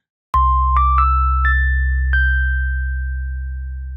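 A game show pity bell in a podcast rings out crisply, struck several times in quick succession. Each strike is a bright metallic ding, and the final tone hangs and slowly fades.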